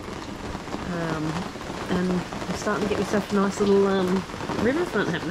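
Steady rain falls throughout in the coastal town of 1770, a continuous hiss behind someone talking over it.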